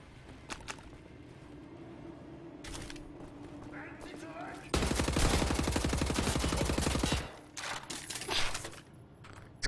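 Automatic gunfire sprayed in a panic during the first-person shooter Wolfenstein: The New Order: a dense burst of rapid shots lasting a couple of seconds, then scattered shorter bursts, all under a player's voice commentary.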